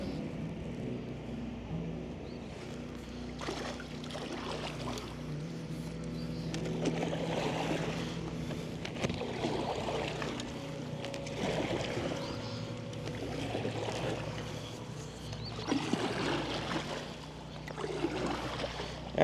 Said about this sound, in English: I guess let's see how it paddles.